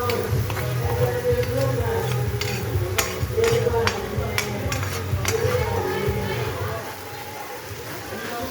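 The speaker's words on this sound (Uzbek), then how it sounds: "Endi baqlajonlarni biroz qo'g'irib, keyin dimlaymiz." Eggplant slices fry and get stirred in a pan, a steady sizzle with scattered utensil scrapes and clinks throughout, while a person talks over the cooking.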